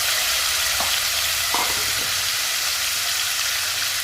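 Sambar rice with mint is stirred and mixed in a hot pan, giving a loud steady sizzle with a few scraping strokes, and no voices.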